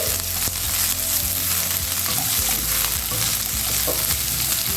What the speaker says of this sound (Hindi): सारे मसाले को हल्का फ्राई करेंगे